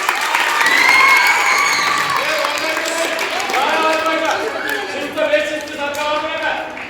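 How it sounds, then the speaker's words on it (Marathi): A school hall of students claps and cheers for winners of a science quiz, a loud, close burst of applause mixed with excited shouting voices that continues unevenly throughout. "त्यासाठी जोरात टाळ्या वाजवायचे."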